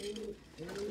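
A pet pigeon in a home coop coos softly in two short throaty phrases, close and fairly quiet, with no talk over it.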